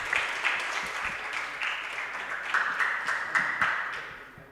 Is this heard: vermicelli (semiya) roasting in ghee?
no